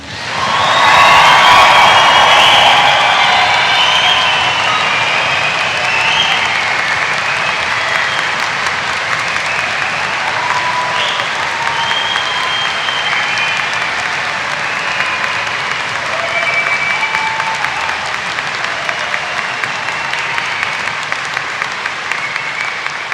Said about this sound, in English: let's see how much noise you can make to get things going.